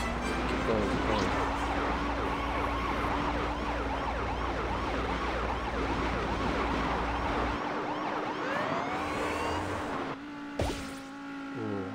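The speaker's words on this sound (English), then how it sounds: "Good thing I had the police siren" A wailing police siren in Beach Buggy Racing 2 rises and falls continuously over loud, busy game sound effects, with a brief clatter near the end.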